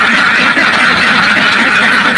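Ducks at a duck farm quack in a dense, continuous chorus, loud and close throughout, with no talking.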